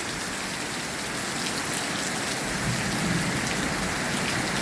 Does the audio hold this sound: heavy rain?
yes